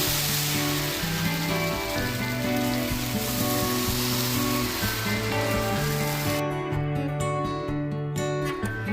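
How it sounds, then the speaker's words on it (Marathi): Amboli rice pancake batter sizzles steadily on an oiled griddle over low heat, a loud, even crackling fry that runs the whole time beneath soft background music. "मंद आच्यावर आंबोळे शिजवून घ्यायचे"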